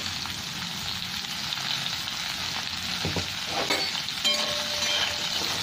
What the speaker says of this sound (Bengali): একটু হলুদ দিয়ে হালকা করে ভেজে নিই